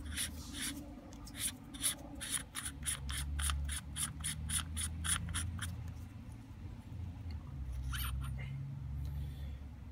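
Rapid, rhythmic scraping clicks of a threaded end piece being unscrewed from an air rifle valve tube, a close, quiet burst of ratchet-like turns over a low background hum.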